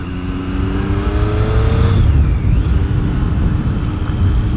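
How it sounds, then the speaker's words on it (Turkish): A 2018 Triumph Street Triple R engine drones loud and close, its exhaust note rising then settling back to a steady rumble, with no voices. "Egzoz sesini çok beğendik."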